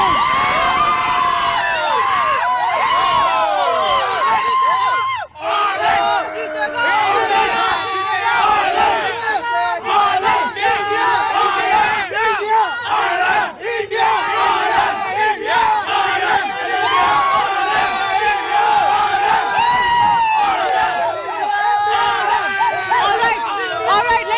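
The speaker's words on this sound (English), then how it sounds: "a loud cheer can tell us how confident the English side is" Crowd of Indian cricket fans at a match in Hamilton cheering and chanting loudly, a dense roar of many voices with shouting, brief dips near five and thirteen seconds, then continuing unabated.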